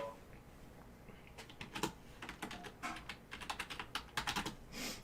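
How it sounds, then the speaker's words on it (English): Loud computer keyboard typing with irregular bursts of clacking keystrokes, some rapid runs and a few heavier hits, close to the mic over a quiet room. "I know I'll be typing loud."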